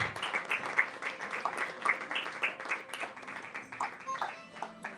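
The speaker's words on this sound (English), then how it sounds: "let's give him another round of applause for sharing those wisdom this afternoon" Applause from an audience at a prize-giving ceremony, a steady patter of many hands clapping at moderate distance, fairly soft and sustained for several seconds.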